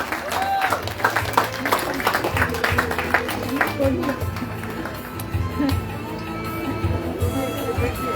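An audience at a political party briefing in Muar gives sustained, dense applause for a speaker being introduced, with an announcer's voice and crowd noise continuing over the clapping.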